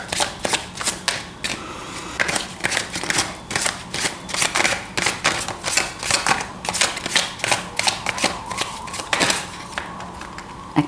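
Tarot cards being handled and shuffled, a close, steady run of crisp riffling flutters and taps that repeat throughout without any talking.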